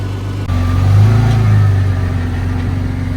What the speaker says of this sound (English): the car's been running for a little while